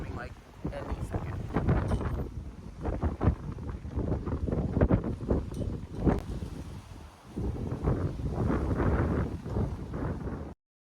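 Strong gusty wind buffets the microphone outdoors before rain, a loud continuous roar that swells and eases, with faint rustling and brief snatches of a voice under it.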